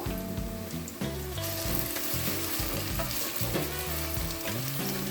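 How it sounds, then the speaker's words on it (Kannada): Sliced onions fry for chicken biryani over a medium flame, a constant dense sizzle running beneath loud music with no pauses. "ಸೊ ಬಿರಿಯಾನಿಗೆ ಮೇನ್ ಅಂದರೆ ಇದು ಈ ಥರ ಈರುಳ್ಳಿ ಫ್ರೈ ಮಾಡಿ ಇಟ್ಕೊಳ್ಳೋದು ಮೇನು."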